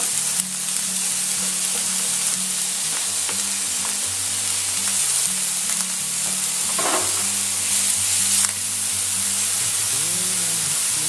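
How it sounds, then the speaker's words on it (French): Shallots frying in a pan, a loud continuous sizzle with hissing crackle and occasional stirring scrapes, close up and steady throughout. "Quand les échalotes commencent à griller un peu"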